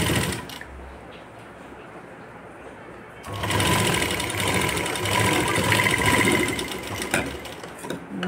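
A sewing machine stitches a latkan tassel detail for a blouse, a quiet whirr at first, then a louder, steady, fast mechanical rattle close by that runs for several seconds, with no talk over it.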